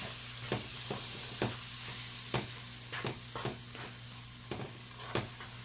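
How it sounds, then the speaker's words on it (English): A spoon stirs an instant parsad flour mixture in a pan, scraping at an uneven rhythm over a gentle background sizzle, close and moderately loud with no voices. "So you add a little at a time and just keep mixing."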